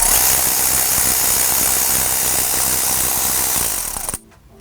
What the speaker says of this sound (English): using a size 10 socket, we will be able to remove the nut from the battery